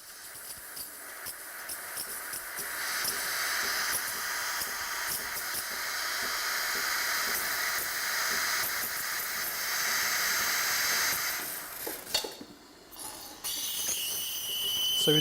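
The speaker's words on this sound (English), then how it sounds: "As soon as our espresso shot is finished, we engage the steam." The steam wand of a Sage Barista Express espresso machine hisses loud and steady, with a brief break and change in tone near the end.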